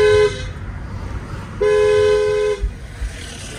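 A car horn honks twice, a short toot at the start followed by a longer held blast about a second later, loud and close against low traffic noise.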